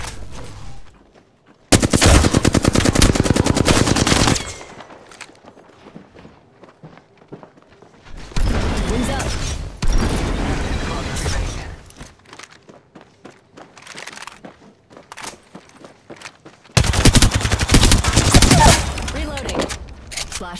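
Automatic weapons fire in a first-person shooter video game, with three long, loud, close bursts of rapid shots separated by quieter gaps of footsteps, movement and brief voice lines.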